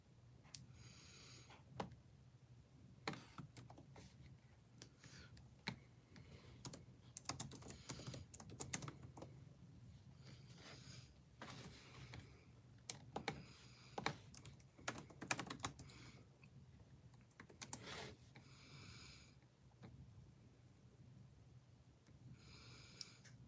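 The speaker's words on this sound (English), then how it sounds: "I will do that once I finish typing it." Computer keyboard typing in irregular bursts of clicks and taps over a low steady hum, with short pauses between runs of keystrokes, moderately close and fairly quiet.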